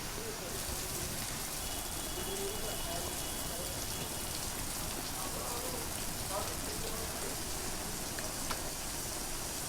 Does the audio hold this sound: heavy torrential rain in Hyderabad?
yes